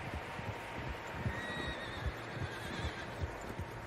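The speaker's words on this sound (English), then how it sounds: "Horses, quite a few of them." Horses in the video game Red Dead Redemption 2 let out a faint distant whinny over a quiet outdoor ambience with soft hoof thuds and rustling.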